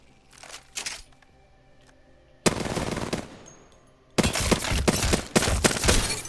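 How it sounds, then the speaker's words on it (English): Rapid pistol fire from a P2020 in the shooter game Apex Legends: a couple of short early shots, then two long sustained bursts of quick, loud, close reports. "P2020 if you have to use it, because this gun has a good rate of fire"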